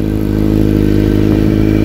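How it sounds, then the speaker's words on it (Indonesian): A standard Kawasaki ZX-25R idling through an Over Racing aftermarket exhaust, a loud, close, steady high-pitched four-cylinder burble with an even throb and no voices. "ini adalah suara stasioner atau suara lansam dari ZX25R tipe standar yang menggunakan knalpot over racing"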